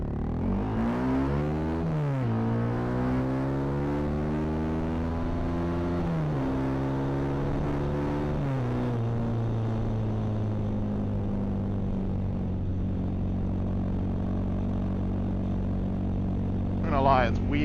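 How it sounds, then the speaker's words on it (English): Honda CRF250L Rally motorcycle fitted with a loud MotoX exhaust, its engine droning and rising in pitch through several gear shifts, steady and close throughout, then settling into a lower cruising hum. "It's weird having a loud exhaust"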